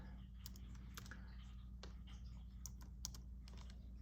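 Keys on a computer keyboard clack in short, irregular bursts at moderate distance over a steady low electrical hum, with no talking.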